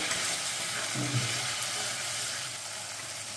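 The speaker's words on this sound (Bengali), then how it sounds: "টমেটো বাটাটা দিয়েও ভালো করে কষিয়ে নেব" Tomato paste frying in hot oil for an aar fish kalia curry gives a steady, close sizzle with a soft hiss, stirred once or twice, with no voices.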